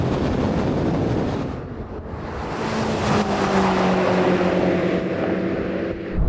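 BMW M5 sedans of G90 hybrid, F90 and F10 generations drag racing side by side, engines roaring steadily with rising whine as they pull away under wind noise.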